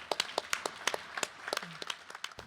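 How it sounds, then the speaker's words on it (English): A small audience at a grant recipients' announcement claps; the hand claps are scattered and uneven and fairly faint, with no voices over them. "So this is our time to applaud for this great group."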